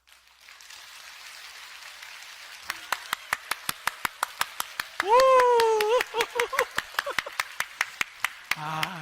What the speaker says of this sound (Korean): 이 정도 박수로 대접해가지고는 안 되겠죠?